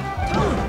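Down smash attacks landing in Super Smash Bros. Melee, played by Mew2king as Sheik before a large live crowd: a loud, sharp smash-and-crash burst with the roar of the audience behind it.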